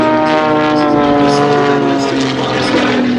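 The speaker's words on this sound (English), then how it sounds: "His aircraft is the extra 260, slightly lower powered than the 300, in which he also performs solo displays." An Extra 260 aerobatic propeller plane at an air festival display at Duxford, with a loud, continuous droning engine and propeller whose pitch shifts slightly as it passes, with faint speech beneath.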